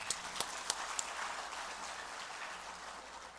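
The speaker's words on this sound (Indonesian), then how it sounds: "Tepuk tangan." Audience applause at a regional association congress in Batu, Malang, faint and distant, a steady wash of clapping with a few sharper claps early on, no voices over it.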